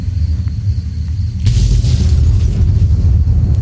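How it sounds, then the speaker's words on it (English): A vehicle explodes in Fallout: New Vegas: a sudden loud boom with crackling debris bursts out of a low rumble and lingers as a heavy roar. "Good explosion."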